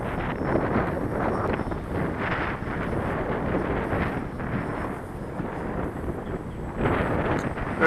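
Steady, loud wind buffeting the microphone outdoors while an RC Cessna 182 model flies in gusty conditions, a broad continuous roar swelling near the start and again toward the end, with no talk.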